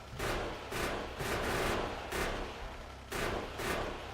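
Car-mounted machine gun firing in the Factorio video game, sounding in repeated sustained bursts of rapid automatic fire, each roughly half a second to a second long, loud and close with short gaps between them.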